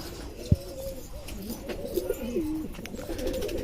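A pair of teddy pigeons coo softly in a few short, wavering phrases, with a sharp knock early on and faint background noise.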